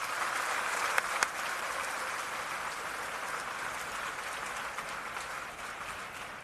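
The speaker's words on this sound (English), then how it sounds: "let's have a round of applause for NS men in the audience" Audience at a military change of command parade applauding national servicemen: a steady, fairly faint wash of clapping from a distance that holds evenly and tapers slightly at the end.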